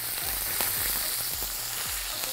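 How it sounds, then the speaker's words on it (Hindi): Mustard seeds, cumin, fennel and curry leaves sizzle steadily in hot oil for Indori poha, with small crackling pops breaking through a continuous close frying hiss. "मस्टर्ड सीड्स को हम क्रैकल होने देंगे।"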